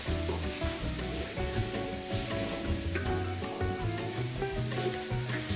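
Chopped seedless malagueta chili pepper sizzling and frying in the bottom of a pot, a steady close crackle with clattering stirring over it throughout.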